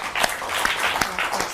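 Studio audience applause welcoming guests onto a television interview show, a short burst of brisk, fairly close clapping.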